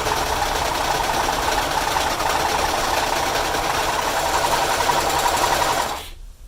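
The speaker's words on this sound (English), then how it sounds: "I'm going to serge over that seam that I just sewed to keep it from fraying." A serger runs steadily over the edge of a sewn fabric seam on a cosplay mask piece, a fast, even mechanical whir that holds for about six seconds before stopping abruptly, with no talking.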